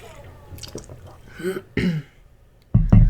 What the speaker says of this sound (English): I keep having hiccups.